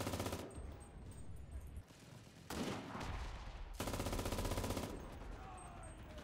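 Bursts of MG42 machine gun fire in the World War II shooter Enlisted, loud and sustained in long dense strings, with brief pauses between volleys.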